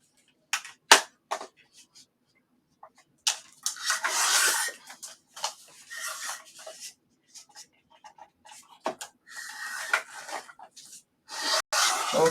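Linen-feel drawing paper is trimmed in a quiet room, giving a run of scraping, rubbing cuts and sharp clicks in uneven bursts with short gaps, heard close and mostly alone.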